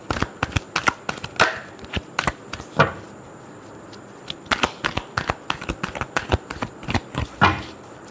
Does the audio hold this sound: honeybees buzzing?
no